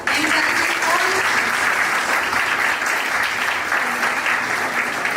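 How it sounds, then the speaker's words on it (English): Loud, sustained applause from the audience at a school Youth Parliament competition opening, many hands clapping in a dense, continuous roar that stays level throughout. "let's start this opportunity, the event, with a big round of applause."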